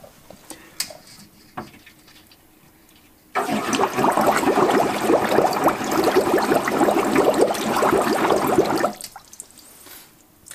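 Air blown through a car heater radiator held underwater bubbles out in a vigorous, gurgling burst that starts abruptly and lasts about six seconds, with quiet handling clicks before and after.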